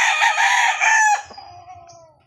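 A fighting rooster crows once nearby, a loud drawn-out call that breaks and trails off into softer clucking at the end.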